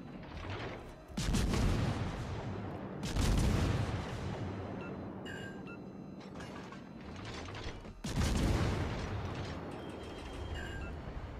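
Warship guns firing in World of Warships: Legends, with three big booming salvos spaced a few seconds apart over continuous rumbling battle noise and faint mechanical clanks, loud and close.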